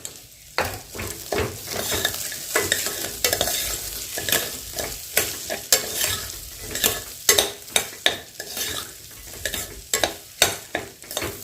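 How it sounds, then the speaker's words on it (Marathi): Rice roasting in ghee is stirred in a pan, with a series of irregular scraping strokes of the spoon over a soft sizzle, close and moderately loud. "आता तांदूळ भाजतो की नाही आपण एक चमचा तूप घाला"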